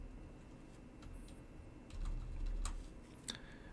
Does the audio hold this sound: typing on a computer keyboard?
yes